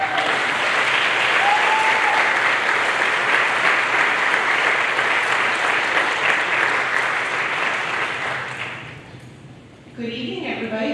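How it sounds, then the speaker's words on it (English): Audience applause at a school new parent night, loud, sustained clapping from a room full of people that tapers off near the end before a voice begins speaking. "Give me a round of applause."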